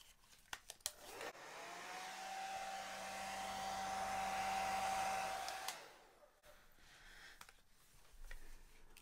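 Steady whooshing blower, like a hair dryer, pushing air over red acrylic paint in a Dutch pour; a continuous whine rises and holds for about four seconds, then cuts off, with faint clicks before and after.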